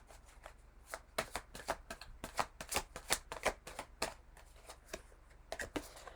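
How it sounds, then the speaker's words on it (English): Tarot cards riffled and flicked in a quick series of crisp, close paper snaps and bursts, loudest in the middle and trailing off, with a pause before a final flurry. "draw some more cards on that Wheel of Fortune in the reverse"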